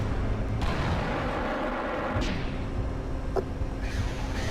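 Guided missiles firing in the Battlefield video game, a run of booming launches and distant blasts over steady low battle rumble, several sharp bursts spread across the clip.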